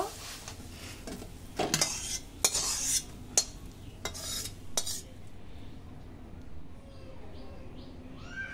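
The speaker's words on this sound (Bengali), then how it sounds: "শাকটা খুব ভালো করে ভাজা ভাজা করে নেবো, জলটা শুকিয়ে যাবে।" Mixed leafy greens stir-frying in oil in a pan, heard as a quiet sizzle broken by several sharp scrapes and clinks of a spatula against the pan, fading to soft hiss.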